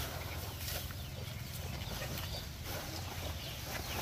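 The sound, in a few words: chickens clucking while eating corn husks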